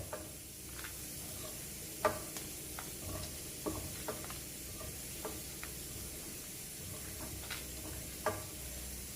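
Cashews and raisins fry in ghee for a sweet pumpkin payasam. The sizzle is soft and steady, broken by scattered light clicks of stirring, and stays fairly faint and close.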